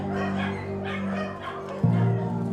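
Dogs at a dog shelter in the back streets of Denpasar, Bali, yip and whine in short repeated bursts, with a sharper, louder cry near the end over a steady low hum.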